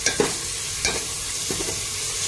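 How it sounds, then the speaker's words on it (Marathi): Tomatoes and a bay leaf fry in a pan for chicken curry, a steady sizzle with a few quick stirring scrapes spaced through the short stretch, no voices. "टोमॅटो पण चांगला फ्राय करून घेऊया"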